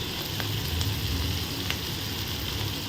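Onions sizzle in a pan while being stirred, with salt and chili powder, for a potato rice dish, a loud, steady, close frying hiss with occasional sharp clicks.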